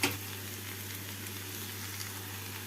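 Chopped beans fry with onion and tomato in a pan, giving a dense, even sizzle with a low steady hum beneath. A brief knock sounds at the start.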